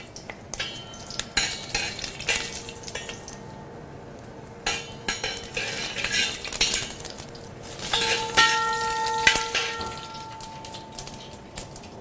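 Whole spices such as bay leaf and cinnamon sizzle softly in a hot pan, with a utensil scraping and clinking as it stirs them, steady crackle throughout and a brief metallic ring near the end; no talking.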